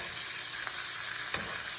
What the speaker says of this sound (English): This is the unique benefit of doing it in the pan, is then you can baste it with some nice brown butter.